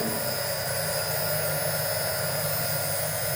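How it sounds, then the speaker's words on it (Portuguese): A motor runs in an instrumentation training plant used for temperature control, giving a steady, unbroken mechanical hum with a constant whine for the whole stretch and no talking. "meu motor está funcionando"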